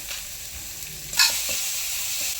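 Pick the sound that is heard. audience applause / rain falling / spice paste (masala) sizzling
spice paste (masala) sizzling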